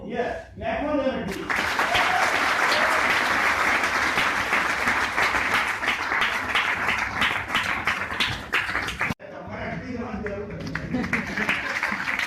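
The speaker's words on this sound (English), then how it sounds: "Clap for them." Audience applause at a keynote talk fills most of the clip, loud and sustained with dense clapping, cutting off abruptly near the end before a quieter stretch of room noise.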